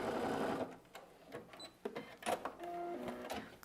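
Sewing machine backstitching a fabric bag: short bursts of whirring stitches with brief pauses and clicks in between, close and moderately loud, no talk.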